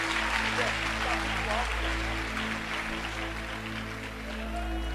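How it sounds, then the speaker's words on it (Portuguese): A church congregation applauding during a service, a steady wash of clapping over a low hum, with voices mixed in throughout. "os que podem, tomem o seu assento aplaudindo a Jesus"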